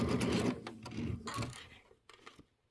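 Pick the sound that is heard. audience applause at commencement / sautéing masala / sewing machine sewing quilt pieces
sewing machine sewing quilt pieces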